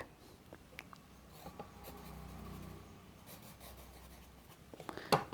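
A pen writing Pitman shorthand outlines on paper, a soft continuous scratching with brief strokes and pauses, close and quiet, ending with a sharper tap.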